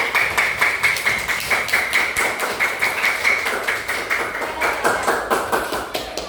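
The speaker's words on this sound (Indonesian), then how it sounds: "Ya, tepuk tangan kelompok 1." Classroom of primary school children clapping together for a group after an answer, a steady run of rapid, fairly loud claps filling the room throughout without pause.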